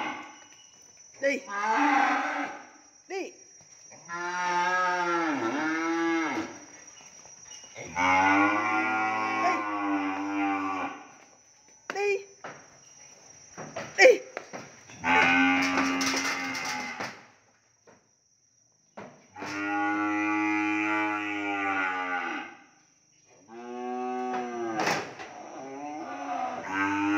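Cattle being delivered to a buyer moo repeatedly, with long, loud, drawn-out lowing calls from several animals, close by and separated by short pauses.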